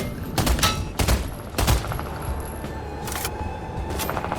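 Rapid bursts of gunfire from Fortnite Season 7 gameplay in a bot lobby, several sharp volleys around the middle of the stretch and a later one, over a steady bed of game ambience with no talk.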